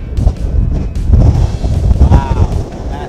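Strong gusting wind buffets the microphone in a continuous low roar, with faint splashing and rushing in the background, out redfish fishing near Charleston, South Carolina.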